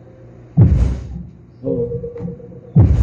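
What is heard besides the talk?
deep bass from subwoofer amplifier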